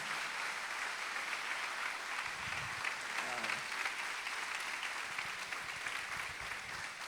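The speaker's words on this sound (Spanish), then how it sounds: "Dale un aplauso al Señor." A church congregation claps steadily throughout, a continuous wash of applause with no pauses.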